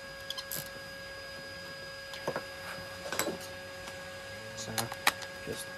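A wrench winds a 10mm bolt under a Citroen C1 during a catalytic converter replacement, giving a few quiet, scattered metallic clicks over a steady background hum.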